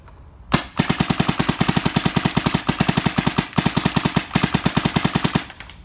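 A DYE DSR paintball marker fires a long, rapid string of shots, close and loud, in an even, fast rhythm with only a brief hitch partway through. No voices are heard.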